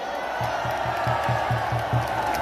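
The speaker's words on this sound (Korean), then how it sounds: "한번 환호를 질러보세요." A large crowd at an outdoor political rally in Gwanghwamun Square cheers and whoops together, a loud sustained roar with a rhythmic chanting pulse running beneath it.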